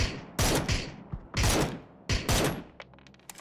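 Gunfire in PUBG: three loud bursts of shots spaced about a second apart, each sharp and close, followed by a few lighter clicks and quieter pops.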